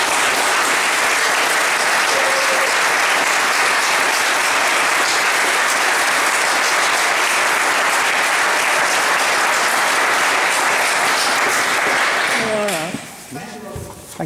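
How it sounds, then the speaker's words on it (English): Sustained round of applause at a funeral for a friend, Mr. Roy Robinson, dense and steady for about twelve seconds before thinning out near the end as a voice comes in. "I want you all to give a big round of applause to my friend"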